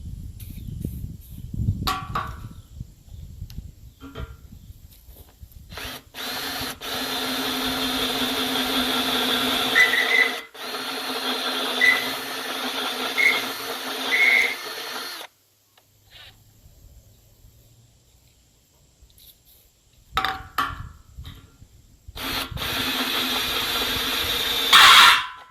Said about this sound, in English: I'm trying to drill 5/8 bolt holes through these right now